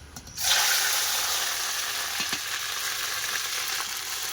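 Grated onion paste dropped into hot oil with caramelizing sugar, bursting into a loud, close, continuous sizzle that holds steady after a sudden start.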